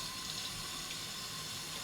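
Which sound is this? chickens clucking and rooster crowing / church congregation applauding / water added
water added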